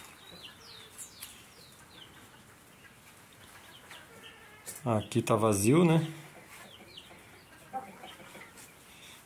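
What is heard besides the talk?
chickens clucking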